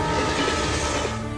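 A train rushing past in a Telugu comedy film, a loud, continuous roar of rail noise filling the whole moment with no voices.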